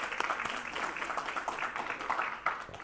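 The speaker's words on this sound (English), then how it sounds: "give them that, that's a round of applause" Audience at a family medicine residency graduation ceremony applauding graduating residents, steady scattered clapping heard faintly from a distance.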